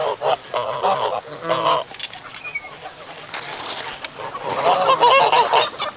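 A flock of farmyard geese honks loudly and repeatedly at close range, overlapping calls swelling toward the end, with some voices talking among them.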